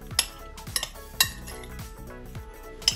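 Baby potatoes being tossed with salt and chili garlic paste, a utensil scraping and clinking against the bowl in a few distinct, close knocks spaced about half a second apart over a low background hum.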